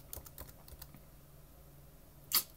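Typing a zip code on a computer keyboard for an Arduino sun-tracking prototype: a quick run of close, crisp key taps, a pause, then one louder keystroke near the end.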